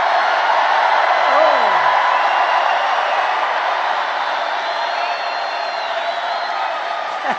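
A large crowd cheering at an election eve event: a continuous, muffled wall of distant cheers and whoops that holds steady throughout, with a voice faintly audible in the mix.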